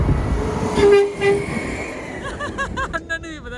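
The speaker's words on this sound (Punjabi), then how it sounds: "ਸਾਡੀ ਵੀਡੀਓ ਬਣਾਉਂਦੇ ਵੀ ਹਾਰਨ ਮਾਰ ਗਏ ਜੇ" A garbage truck's horn sounds during a snowstorm, a short tonal honk followed by a cluster of rapid, repeated honks nearby, heard outdoors with no talking in between.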